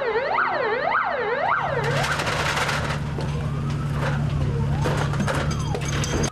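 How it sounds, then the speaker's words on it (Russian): Fire engine siren arriving at a fire drill: a loud wailing siren rises and falls in quick sweeps, then gives way to vehicle engine noise and fainter, slower siren tones. "Еще через некоторое время из-за поворота появляется пожарный расчет."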